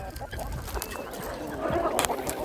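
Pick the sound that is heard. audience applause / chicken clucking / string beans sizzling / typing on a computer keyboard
chicken clucking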